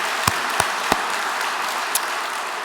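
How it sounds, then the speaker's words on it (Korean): A church congregation applauds during a Sunday worship service to thank a deacon for his testimony: a steady, fairly distant wash of many hands clapping, with a few sharper individual claps standing out. "박수를 한번 보내주시면 좋겠습니다."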